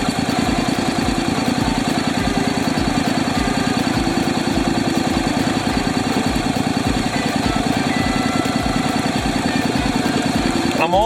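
A Honda DCT motorcycle engine idles in gear with a steady, rapid rhythmic chug, close and loud, with a voice talking faintly over it.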